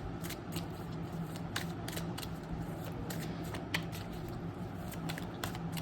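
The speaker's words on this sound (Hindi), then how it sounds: "तो फटाफट कार्ड शफल कर लेते हैं" Tarot cards being shuffled, a steady papery riffle with scattered sharp flicks and snaps over a constant low hum, quiet and close, with no talking.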